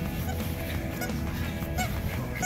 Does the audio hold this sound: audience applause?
no